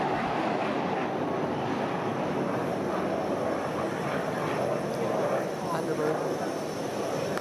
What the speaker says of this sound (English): Hear another plane taking off in the background from the base flight line.